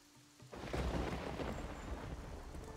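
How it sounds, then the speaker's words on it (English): Thunderstorm in the video game Risen 2: Dark Waters, with a low rumble of thunder rolling in after a quiet half-second and steady rain hissing across the rest of the clip, loud and close. "It's cloudy and it's raining."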